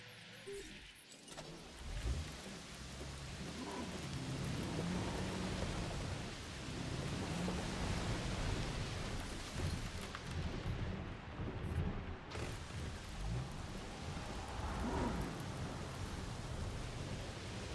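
A thunderstorm rolls through the Jurassic World Evolution dinosaur park game, steady heavy rain hissing throughout while deep thunder rumbles swell and fade several times, no voices.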